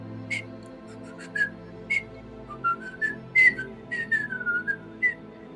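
A person whistles the tune from The Sorcerer's Apprentice, a short run of clear, close melodic notes and slides over a low musical background.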